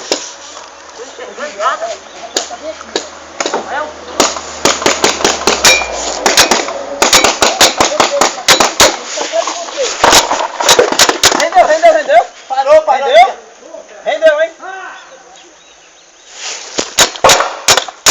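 A rapid series of sharp popping paintball gun shots, clustered in bursts with brief pauses, mixed with excited voices shouting nearby.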